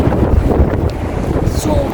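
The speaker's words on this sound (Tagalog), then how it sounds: "Tapos yung hangin," Strong, cold wind buffets the microphone beside an expressway in Athens, Greece, a steady low rumbling roar that lasts throughout with slight gusting swells.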